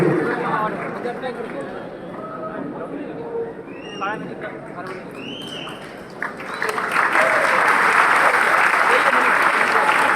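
An audience at a youth expo at CM College in Darbhanga claps to welcome a guest speaker, rising into loud, sustained applause after someone speaks over the crowd on a microphone.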